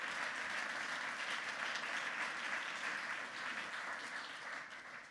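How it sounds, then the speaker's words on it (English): Steady, dense audience applause at a startup accelerator demo night, continuing loud and unbroken before tapering slightly at the end. "Can we please give everyone a big round of applause?"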